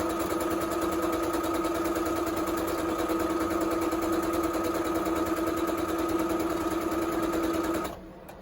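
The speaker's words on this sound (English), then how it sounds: "I'm gonna just be sewing up these seams here, which are the shoulder seams, and I'm just doing a straight stitch for those" A sewing machine runs a steady straight stitch along the shoulder seams of a prairie-style top made from a vintage 1970s pattern, humming evenly and close for about eight seconds before stopping.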